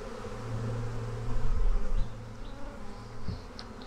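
Many bees buzz close by in a thick, continuous drone that swells and fades slightly.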